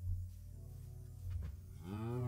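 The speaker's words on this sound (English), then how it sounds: "Black and white cow." A black and white cow in Minecraft lets out a low, drawn-out moo that rises at the end, heard close and clear with no one speaking.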